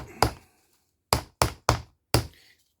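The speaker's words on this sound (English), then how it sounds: "Little teeny ball peen hammer." A small ball peen hammer taps metal pins into a knife handle with five sharp, close strikes, one on its own and then four spaced taps, with quiet gaps between them.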